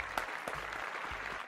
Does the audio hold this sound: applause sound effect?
yes